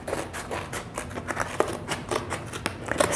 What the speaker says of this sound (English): I'm just going to go around the board and cut off the excess fabric.